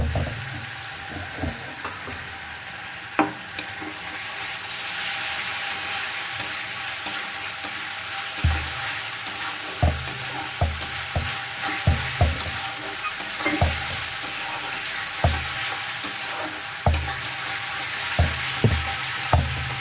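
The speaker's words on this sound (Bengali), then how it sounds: "আদা রসুন পেস্টটা দিয়ে খানিকক্ষণ নেড়ে নিতে হবে, তাতে মশলাটা ভালোভাবে পাকানো হয়।" Onion and ginger-garlic paste fry in a pan with a continuous soft sizzle, punctuated by frequent irregular scrapes and knocks of a spoon stirring, close up and with no talking.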